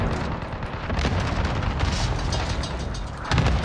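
Cluster strike explosions in a video game come as a dense, continuous run of booming blasts and rumbling impacts, loud and overlapping, with a heavier hit near the end.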